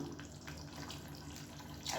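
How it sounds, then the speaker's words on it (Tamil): Water pours steadily into a simmering tamarind kulambu, a continuous splashing trickle like a running tap, with a brief brighter splash near the end. "இப்போ தேவையான அளவுக்கு தண்ணி சேர்த்துக்கலாம்."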